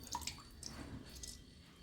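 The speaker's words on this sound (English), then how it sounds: "Then I am squeezing half a peel of lemon." Half a lemon squeezed over rock salt while mixing a cleaning paste for copper vessels, giving faint, brief drips and soft squishy trickles, quiet and close.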